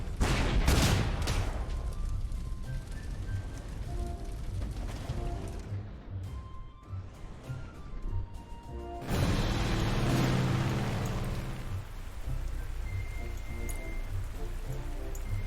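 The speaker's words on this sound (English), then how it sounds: "Good old rain." Rain falls steadily in the WWII strategy game Panzer Corps, set around Arras in 1940, a dense hiss with scattered sharp gunfire-like cracks near the start and a heavier surge of downpour midway.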